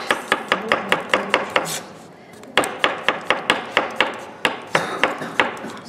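A knife cuts fat zucchini halves on a cutting board in brisk, evenly spaced chops, loud and close, with a short pause partway through before the rhythm resumes.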